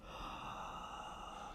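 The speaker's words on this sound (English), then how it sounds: "I'm just breathing in, but it sounds really creepy when I'm listening in the headphones" A quiet, steady inhalation picked up close through a headphone monitor, a soft airy hiss holding evenly for about a second and a half with a faint breathy quality and no voice.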